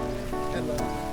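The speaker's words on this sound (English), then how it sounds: "And legit rains, yeah." Rain falling steadily on a walk from NTU to SIT, a dense close patter on surfaces and an umbrella that fills the whole brief moment, with no pause.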